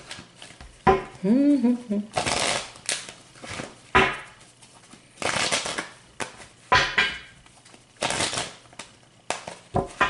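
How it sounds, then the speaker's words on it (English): Cards are shuffled several times in quick riffling bursts, each followed by a short pause, with a voice speaking briefly near the start. "let's give it a couple of shuffles"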